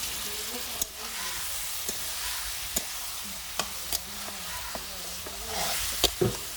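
Beef with spices, onion and tomato is stirred and fried in a pot over a village clay stove, giving a steady sizzle broken by sharp scraping clacks of the spoon, with faint voices in the background.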